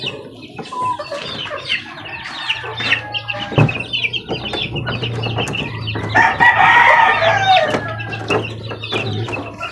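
Chickens cluck and a rooster crows, with occasional wing flapping, busy and continuous across the clip, near and fairly loud, with a louder flurry of calls partway through; a young chick is among them.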